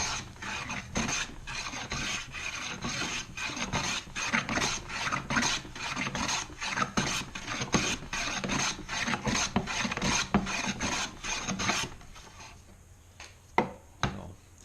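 A Veritas 4 1/2 hand plane taking very fine shavings off a thin cherry board with a ripply machine-planed top, a rapid run of rhythmic rasping strokes, close and steady, then a few sparse scrapes as the planing stops.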